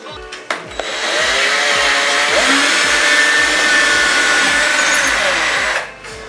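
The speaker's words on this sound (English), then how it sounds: "So now I'm just gonna drill through the top." A power drill bores straight down through the top of a workpiece, a steady loud whine held for about five seconds after a couple of short starts, then cutting off.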